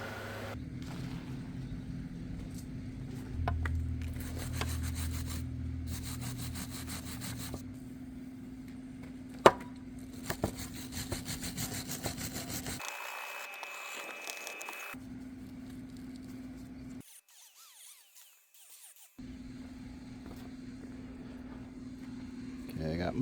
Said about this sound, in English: I got most of the paint off the frame. Got the rust out of here.